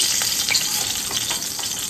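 Panch phoron spices fry in hot oil with a steady, loud, close sizzle and crackle that runs unbroken throughout, with no voices.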